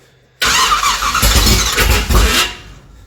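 A Chevrolet 383 V8 cranks on a starter motor that has a fault, giving a sudden loud grinding, squealing whir close by that lasts about two seconds and then cuts off without the engine firing.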